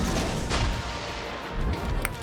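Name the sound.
torpedoes launched from destroyer Shimakaze in World of Warships video game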